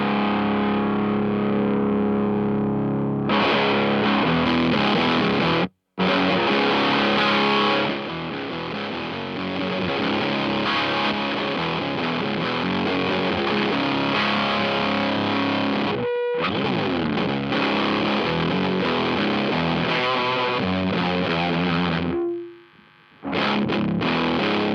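A Mozztronics TD-1 Tube Driver overdrive pedal drives an electric guitar through loud, saturated chords and riffs, played continuously with two short breaks of silence.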